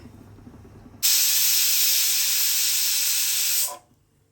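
After a second of quiet, a pressure cooker cooking gongura chicken pulao bursts into a loud, steady whistle hiss of escaping steam for about two and a half seconds, then cuts off.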